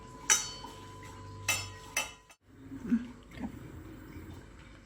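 Spoon clinks against a bowl while asafoetida powder, salt and chilli powder are stirred together for chilli bajji batter; several sharp metallic taps, close and moderately loud, separated by brief scraping pauses.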